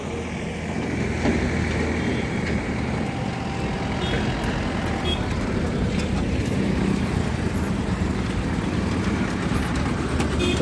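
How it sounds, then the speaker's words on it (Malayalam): Tractor engines at the Muktsar mela, a Punjab fair, make a continuous, loud, dense engine roar and rumble that holds steady throughout, with busy outdoor noise mixed in. "ഭയങ്കര സൗണ്ടാണ്, ഫുള്ള് ട്രാക്ടറിലുള്ള കളികളാ."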